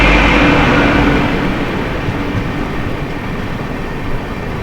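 Karnataka Express, train 12627 from KSR Bengaluru City to New Delhi, rolling into a station with a loud, close, steady rumble that eases slightly after the first second and continues without voices.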